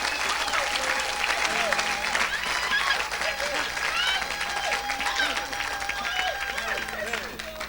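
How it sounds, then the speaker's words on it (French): A church congregation applauds and cheers for Jesus in a steady, dense wash of clapping and shouts that holds loud and close for the whole stretch, with voices calling out through it. "Est-ce qu'on peut acclamer pour Jésus ici?"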